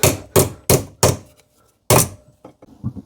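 Sharp, heavy metallic blows of a hammer on metal held in a vice, five loud hits followed by a few lighter taps, close by.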